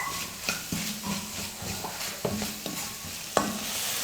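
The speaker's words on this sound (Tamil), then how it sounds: "இது 3ஐயும் சேர்த்து நல்லா 1 நிமிஷத்துக்கு வதக்கிக்கலாம்." Spices sautéing in a pan for chilli kothu parotta, with a steady close sizzle broken by repeated scraping, stirring strokes of a spatula; no talking.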